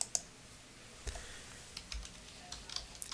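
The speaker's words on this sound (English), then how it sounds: "I could hit the insert key on my keyboard" Keys on a computer keyboard are pressed in scattered, quiet taps and clicks, a handful of separate strokes close by with no talking.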